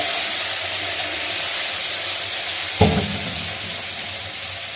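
Potatoes dropped into hot oil tempered with fenugreek seeds and five-spice, with steady frying hiss and a sudden louder crackling sizzle as they go in, close and without talk.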